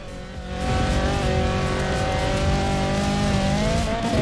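An Alfa Romeo driving off-road in the Forza Horizon 4 video game, its engine holding a loud, steady, high rev that swells early on and drones on without a break, with faint tyre and gravel noise beneath.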